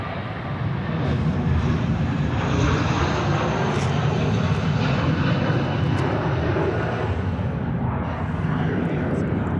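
An Embraer E190 jet in Alliance livery passes at Sydney Airport with a loud, steady broadband engine roar that fills the whole stretch, close and unbroken, while people talk over it.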